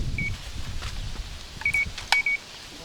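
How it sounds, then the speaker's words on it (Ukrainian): An electronic bite alarm on a fishing rod at a reservoir gives several short, high beeps, one early and a quick cluster near the end, over faint outdoor background noise. "І пікалка заработала."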